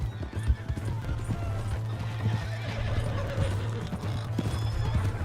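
A horse whinnies loudly while hooves clip-clop at a gallop, rhythmic and close, with a steady low rumble underneath.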